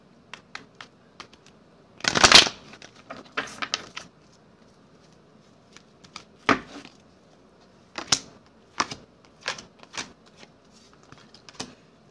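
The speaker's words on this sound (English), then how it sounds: "I need to stop shuffling these cards like I'm in a casino." Close-up riffle and shuffle of tarot-style reading cards, one loud burst then scattered soft snaps and flicks at irregular intervals, in a quiet room.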